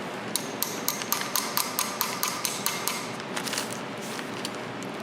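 Rapid, evenly spaced metallic taps from a hammer striking a socket to seat a fuel pump in a Toyota Supra, a dozen or more sharp hits in quick rhythm, fairly close.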